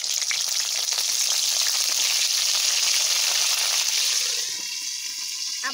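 Bitter gourd masala fries in a pan with a loud, continuous sizzle and crackle, close up, the hiss easing slightly near the end as something shifts in the pan.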